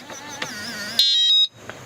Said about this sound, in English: You hear the mechanism do some things and it'll beep and it's locked.